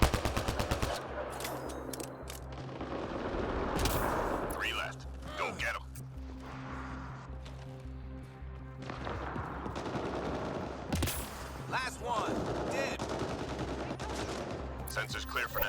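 Gunfire in the sci-fi shooter Mass Effect: Andromeda, with rapid bursts and single shots cracking repeatedly across the clip over a steady background score, while voices speak at times.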